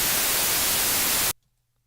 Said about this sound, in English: So let's take a look here at this white noise.